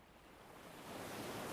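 Sea waves wash onto the shore in a soft continuous rush that slowly swells louder, with no voices.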